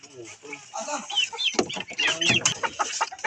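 Laying hens clucking in a busy, overlapping series, close by, with some chicken calls mixed in and a faint voice underneath.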